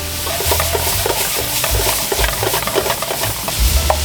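Mixed wild mushrooms stir-fried in a wok, giving a loud, steady sizzle with frequent scraping and tossing clatters of the spatula against the pan, close up and continuous; no talk.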